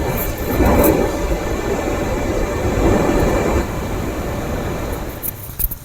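An Oaktree OAK3 phone cooler fan runs with a continuous, moderately loud airy rush and a faint tonal hum, holding steady with slight swells and fading in the final second.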